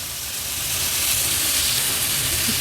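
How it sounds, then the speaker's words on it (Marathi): Cleaned prawns meet a hot onion-tomato masala in a pan for an Agri-Koli style prawn dish, giving a steady, loud broadband sizzle and hiss that holds evenly throughout with no talking. "आपण ह्याच्यामध्ये ह्या कोलंब्या ज्या साफ करून घेतल्या आहेत त्या ऍड करूया"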